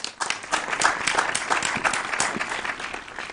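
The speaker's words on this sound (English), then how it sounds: "A round of applause for him." An audience at a school quiz competition applauds a grade 9 contestant being introduced, steady dense clapping filling the room throughout without a break.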